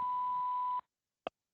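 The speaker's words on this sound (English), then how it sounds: "Maybe we got put on someone's voicemail here or something" A voicemail beep on a phone call: a steady electronic tone holds for most of a second, cuts off into silence, then a brief click sounds after a short pause.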